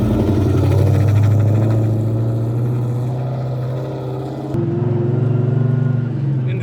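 A supercharged Steeda Ford Mustang drift car with a welded diff and Synergy angle kit revs loudly and close, a steady droning engine note that rises in pitch and then drops with a gear change partway through.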